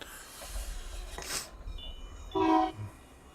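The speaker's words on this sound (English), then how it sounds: "Oh, I hear the train." A train horn sounding in the Farming Simulator game as a train passes, a short, fairly distant blast after faint rumbling, heard alone with no talk.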